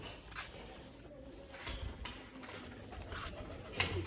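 Soft cooing of a female pigeon close to laying eggs repeats faintly in a quiet indoor space, with faint rustling and background noise between the calls.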